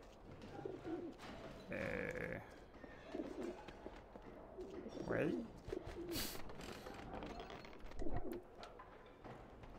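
Pigeons coo in soft, repeated bursts in the video game Alice: Madness Returns, fairly quiet and close, with a short spoken word and other game sounds between them.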